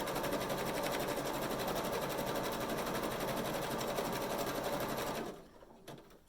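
A sewing machine chain stitches with white cotton thread in one continuous, loud, even run that stops abruptly, leaving a few faint clicks.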